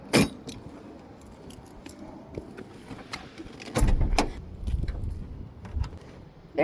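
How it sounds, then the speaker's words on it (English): A car hood being opened on a small vintage Italian car, with close clicks and a jangle of keys, then a louder latch release and metallic thump and creak as the hood rises. "Let's open the hood."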